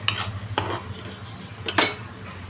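A metal spoon stirs potato bhaji in a pan, giving a few sharp clinks and scrapes against the pan in quick irregular bursts, close and clear without talk.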